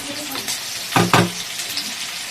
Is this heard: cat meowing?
no